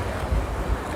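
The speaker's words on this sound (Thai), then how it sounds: "เนี่ย ลมพัดตลอดเลย" Constant wind buffets the microphone outdoors at a roadside boat-noodle eatery, a loud, rumbling low roar with gusty swells and no pauses.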